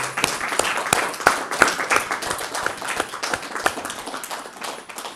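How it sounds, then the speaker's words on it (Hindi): A church congregation claps for the Lord during a Hindi sermon, rhythmic hand claps from a group in a room with sharp individual claps standing out, steady and moderately loud for about five seconds. "तालियां बजा सकते हैं प्रभु के लिए"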